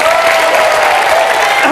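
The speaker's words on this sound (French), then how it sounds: "merci de présenter les musiciens qui sont avec vous et qui sont là pour vous et que vous pouvez applaudir" Studio audience at a televised music show applauding the musicians, a loud, dense burst of clapping with a sustained tone running beneath it.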